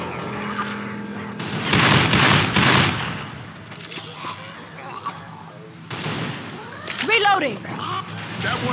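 Gunfire in the video game Left 4 Dead 2 comes as a loud burst of rapid shots with smaller scattered reports, mixed with in-game chatter and other effects.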